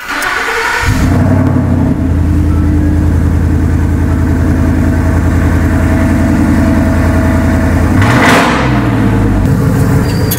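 A Dodge Challenger V8 with a manual gearbox idles loudly with a deep, lumpy burble, then revs up sharply near the end before settling back to idle.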